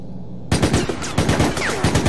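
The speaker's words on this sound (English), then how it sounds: "let's test the burst rifle out" Rapid burst-rifle gunfire in the video game Resident Evil: Operation Raccoon City, loud close shots arriving in quick clustered bursts after a brief quiet start.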